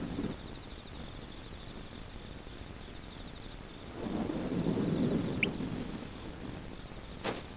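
Thunder in an animated Moomin episode dubbed in Afrikaans: a soft distant rumble swells and fades in the middle, over a faint steady hiss with a high insect-like tone and a couple of sharp ticks.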